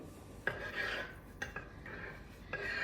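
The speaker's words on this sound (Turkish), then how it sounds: "Şöyle birazcık karıştırayım." Someone stirs kısır bulgur soaking in boiled water with a spoon in a bowl, giving a few sharp scraping clinks and gritty rasping strokes, close and fairly quiet, with no one talking.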